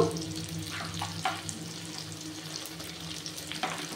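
Ground spices (coriander and red chilli powder) sizzle steadily in hot oil for a soybean dopeyaja curry, with soft scrapes from stirring and a few louder clinks, heard close and alone.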